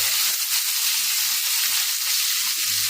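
Chopped tomatoes sauté in a hot pan with onions for a village-style brinjal poriyal, giving a steady, close, dense sizzle and crackle throughout with no talking.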